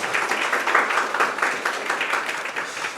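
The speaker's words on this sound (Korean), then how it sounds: "다시 한번 박준철 교수님한테 박수 한 번만 부탁드리도록 하겠습니다." An audience at a talk show claps steadily for a professor, a soft, even patter of many hands that carries on without a break.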